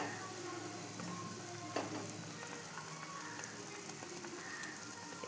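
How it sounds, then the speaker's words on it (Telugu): Food frying in a pan over low to medium flame, a steady, dense sizzle that runs continuously, with faint stirring scrapes and light clinks now and then. "కలర్ షేడ్ అయిన తర్వాత చక్కగా ఫ్రై చేసుకుంటే బాగుంటాయి"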